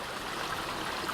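A small stream flows beside a hiking trail on the Buffalo River Trail in Arkansas, a soft, steady watery rush with a faint trickling texture and no voices.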